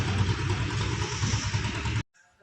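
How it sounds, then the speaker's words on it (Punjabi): A tractor stands parked outside a village tile shop on a foggy morning, its engine idling with a steady close rumble for about two seconds before cutting off abruptly into near silence. "ਇੱਧਰ ਖੜਾ ਆਪਣਾ ਟਰੈਕਟਰ"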